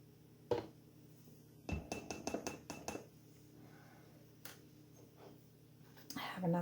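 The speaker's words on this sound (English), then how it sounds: "I'm going to mix that up now." A spoon clinks against a dish while maple syrup, oil and milk are stirred together for a microwave dessert: a quick run of close, rhythmic taps, then a few scattered knocks, with someone talking softly throughout.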